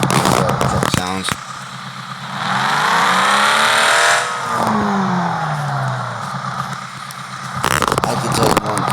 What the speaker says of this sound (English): truck sounds.